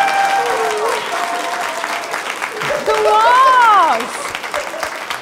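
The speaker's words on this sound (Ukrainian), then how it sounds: "Ваші оплески." A studio audience at a comedy club show claps loudly and continuously while voices call out and exclaim over the applause.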